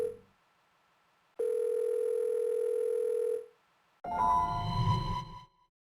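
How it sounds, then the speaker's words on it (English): A telephone in the video game Again rings unanswered: after a brief click, a steady electronic ring tone holds for about two seconds, falls silent, then gives way to a burst of noisier, wavering sound. "No one's answering the phone."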